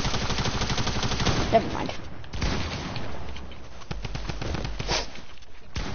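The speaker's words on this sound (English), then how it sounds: "I'm gonna kill you with my SMG." Rapid SMG bursts in a shooter video game, dense repeated gunfire cracks filling the first seconds, then sparser shots, with a player's voice briefly over it.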